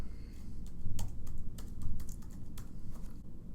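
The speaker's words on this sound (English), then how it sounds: "type your password again." A password being typed on a computer keyboard: a quick, irregular run of crisp key clicks, close and distinct, with brief pauses between bursts and no talking.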